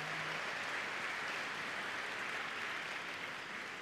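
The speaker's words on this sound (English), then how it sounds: "Big round of applause for Andy and Willow." Steady applause from a crowd at the Crufts 2022 dog show after a search and rescue dog demonstration, fairly soft and distant, continuing evenly for a few seconds without any voices.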